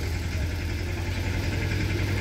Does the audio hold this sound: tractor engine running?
yes